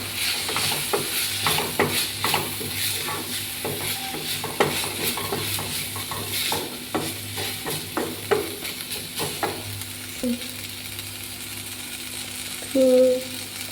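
Masala being stirred into Maggi noodles in a pan, with repeated scraping and clinking of a spoon against the pan over a soft sizzle, close and steady, with a few louder knocks near the end.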